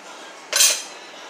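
A spoon scraping once through a pot of pig tail and cannellini bean stew with flour and salt, a single short metallic clink and scrape, close and fairly loud against a quiet kitchen.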